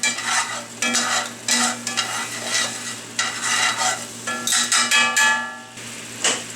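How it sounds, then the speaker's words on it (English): Pork chop cooking liquid reducing in a pan, a loud bubbling sizzle with stirring and scraping bursts in uneven pulses, close up. "There's the liquid from the pork chops reducing."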